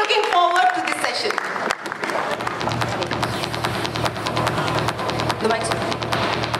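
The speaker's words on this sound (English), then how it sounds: "So let's have a clap for him, everybody" Audience applause at a live entrepreneurship event, a steady broad wash of clapping that builds after a brief voice at the start and carries on strongly to the end.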